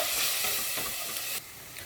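Masala with chili powder and garam masala is stirred in a hot pan, giving a loud, continuous sizzling hiss that drops slightly partway through and then carries on.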